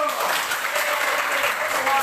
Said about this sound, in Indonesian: Oke, berikan tepuk tangan untuk Rido.